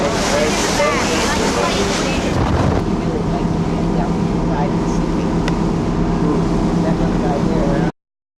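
A boat off Florida cuts through the water, its wake and spray rushing loudly alongside constant wind buffeting the microphone, with people talking over the noise.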